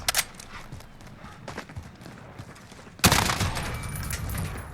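An MK 17 rifle in its close-quarters conversion fires in Call of Duty Modern Warfare: scattered shots and clatter, then a sudden loud burst of gunfire that keeps going to the end.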